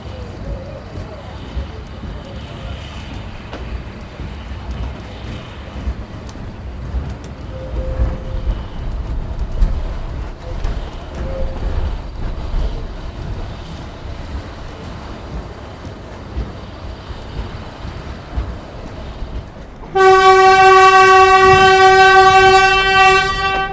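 Price locomotive 222 climbs a steep 1 in 40 grade out of Waitara on the Waitara Railway, a steady rumble of rolling stock and engine, then a loud, sustained horn blast bursts in near the end.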